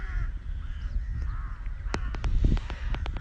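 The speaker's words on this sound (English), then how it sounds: "So I walked here, all of a sudden there's all these crows." Crows cawing outdoors in a residential neighborhood in Gyumri, Armenia, a run of harsh repeated caws from several birds at moderate distance over low traffic-like background rumble.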